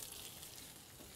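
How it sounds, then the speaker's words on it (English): Cooked beef, salmon and tofu fresh from the oven, giving a steady, soft, close sizzle with a hissy crackle and no speech. "Look at that sizzle."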